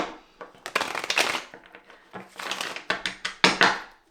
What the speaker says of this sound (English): I just feel like I need to shuffle these 2 times